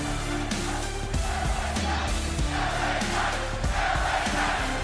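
Dense arena crowd at a WWE SmackDown wrestling show, cheering and chanting steadily throughout, a loud continuous roar with swells of shouting and no clear voices standing out.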